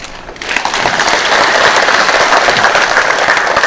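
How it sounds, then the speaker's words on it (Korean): An audience at a ceremony in Korea marking joint support for moving a Daegu military unit to Yeongcheon breaks into applause. The clapping swells after a brief quiet start, then holds as a steady, dense, loud round. "다시 한번 감사의 박수를 부탁드리도록 하겠습니다"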